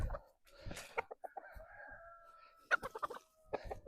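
Backyard chickens cluck in short, uneven bursts, with a longer drawn-out call in the middle, heard nearby in a quiet outdoor plot.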